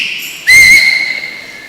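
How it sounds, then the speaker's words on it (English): A woman whistles a single sustained, slightly rising note that starts abruptly and carries loud and clear, fading slowly into a lingering tone. "Can you see that lady whistling?"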